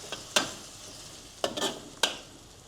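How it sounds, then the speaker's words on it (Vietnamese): A spoon stirs ground pepper into a hot pan mixture on the stove, giving a few sharp scraping clinks against a soft background sizzle, close and fairly quiet. "Rồi mình trộn đều và tắt bếp luôn nha."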